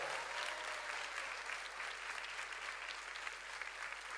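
A church congregation applauds loudly and steadily throughout, a dense wash of clapping with no pauses and no voices rising above it.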